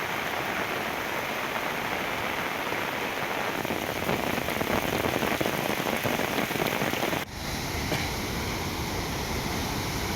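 Heavy monsoon rain falling over a dam catchment area near Pune, a dense, steady hiss of downpour throughout, with a brief dip midway before continuing.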